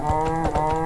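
A cow moos in Minecraft, a close, loud and steady low bovine call with a pulsing, wobbling texture, heard alone.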